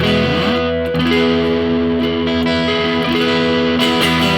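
Overdriven electric guitar through a Supro Amulet amp miked with a Sennheiser mic, drive fully up, thick distorted chords ringing with long sustain, loud and close throughout.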